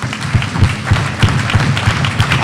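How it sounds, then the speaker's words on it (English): An audience at a credit union's annual general meeting applauds the chairman, a steady round of clapping from a room full of people with rhythmic thumps and taps running through it, moderately loud and continuous. "give our chairman a resounding round of applause"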